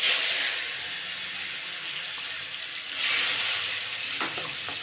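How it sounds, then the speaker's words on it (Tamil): Bitter gourd pieces frying in hot oil in a pan, a loud broadband hiss and sizzle that swells again midway, with a few faint stirring knocks near the end. "பாவக்காய் எடுத்து எண்ணெயில் நல்லா வதக்கிடுவோம்"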